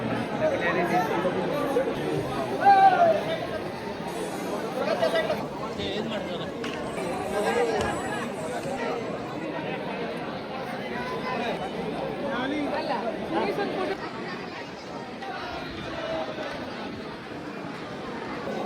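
Dense chatter from a crowd waiting in a long queue at a temple, with many overlapping voices forming a constant, busy murmur throughout.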